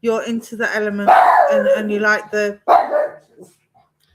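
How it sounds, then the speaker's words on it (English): A dog barks repeatedly at someone walking past, sharp loud barks mixed in with and briefly under a person's nearby speech indoors. "and as usual, he has to bark at everything."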